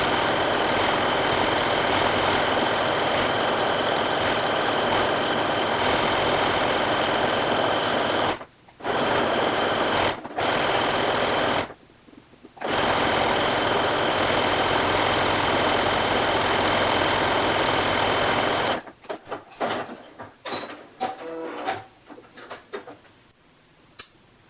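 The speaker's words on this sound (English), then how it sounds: "I'm going to stitch all the way around the edges" A sewing machine stitches around the edges of a hat made from an upcycled sweater, running in a steady continuous whir with a few brief pauses, then stopping into sparse clicks and handling noises.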